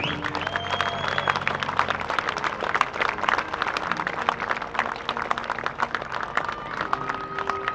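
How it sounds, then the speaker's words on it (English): Crowd applause at a rodeo, with bursts of clapping and some cheering, fairly loud and continuous over a musical background. "Give them a round of applause, would you please,"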